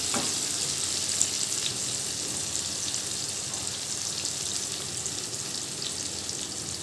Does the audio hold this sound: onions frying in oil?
yes